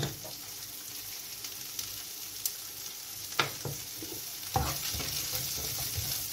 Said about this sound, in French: nous allons faire revenir d'abord nos artichauts